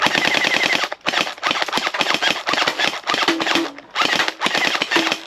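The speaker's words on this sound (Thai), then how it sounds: "นี่ผมลองยิงแบบรัวเลยนะ" Gel blaster toy gun firing rapid full-auto bursts, a loud dense rattle of shots in several long strings separated by brief pauses, close by with no talking.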